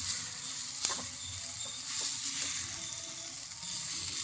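Taro stems cook in a pan, sizzling with a soft, steady hiss, and a spoon stirs them, giving a sharp scrape near the start and a few lighter knocks after it.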